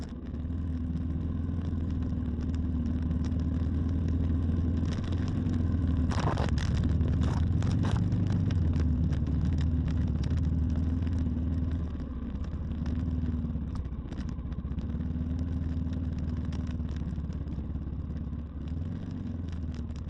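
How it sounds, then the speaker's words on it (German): A motorcycle claws up a steep, washed-out trail in Romania with the clutch slipping and the throttle held wide open, its engine droning continuously and loudly close by with rattling clatter and brief surges throughout. "musste man bei der Steigung einfach die ganze Zeit mit schleifender Kupplung und ordentlich Gas fahren"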